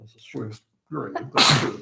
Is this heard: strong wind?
no